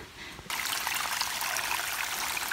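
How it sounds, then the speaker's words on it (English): A small creek running along the Appalachian Trail near Mount Greylock on a gray day, a steady close rushing trickle of water that swells in suddenly after a brief quieter start and holds constant, no talking. "This lovely little creek is the trail"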